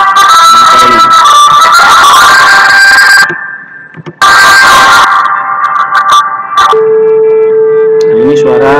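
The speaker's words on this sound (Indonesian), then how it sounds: "suara tut panjang ya." A long, steady generated test tone from an audio editor's tone function, a single pure beep holding at one pitch for several seconds near the end, following louder mixed sound and talk.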